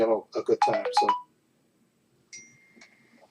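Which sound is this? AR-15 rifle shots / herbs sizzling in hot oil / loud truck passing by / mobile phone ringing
mobile phone ringing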